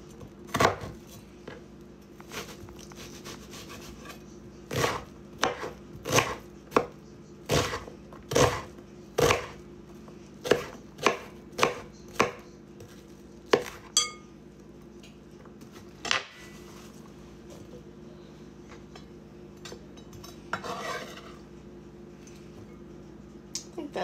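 Half an onion chopped on a cutting board for meatloaf, a run of sharp, evenly spaced knife knocks that speed into quick bursts, close and crisp over a low steady hum, with no talking.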